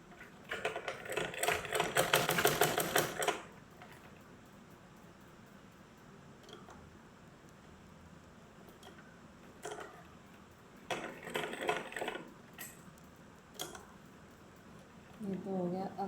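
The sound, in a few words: sewing stitches on a doll's pants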